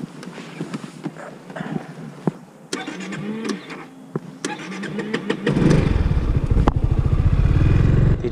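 A Yamaha XMAX 300 scooter low on petrol cranks through several hesitant starter bursts with clicks and sputters before catching and settling into a loud, steady close-up idle.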